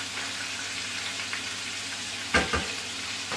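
Chicken livers fry in a pan with a steady, fairly quiet sizzle, and a couple of brief louder spits and scrapes near the end.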